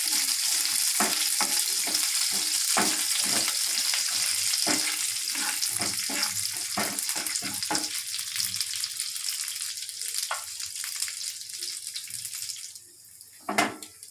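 Ingredients for wheat flour halwa frying in a pan while sugar melts: a continuous close sizzle broken by a quick run of rhythmic scraping and tapping strokes that thin out toward the end, no speech.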